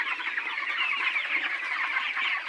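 A flock of premium company chickens on a poultry farm clucks and chatters continuously, a dense, busy chorus of many birds heard up close with no other sounds.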